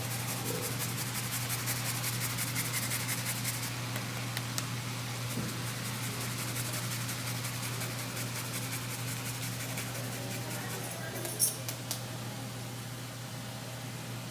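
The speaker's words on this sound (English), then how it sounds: "We're going to grate the ginger in." Fresh ginger is rubbed against a hand grater in a steady series of soft, rasping scraping strokes, fairly quiet and close, with no talk.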